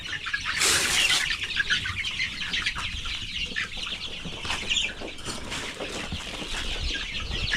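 Chickens and chicks in a pen cluck and peep continuously, with a brief flurry of flapping wings early on, close and busy with no talking.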